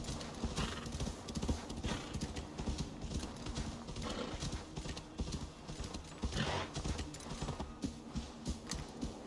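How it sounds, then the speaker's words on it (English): Horse galloping in the video game Assassin's Creed Valhalla, a continuous rapid drumming of hooves with a brief whinny, heard at low level without speech. "Come on, Horsey, just go straight up"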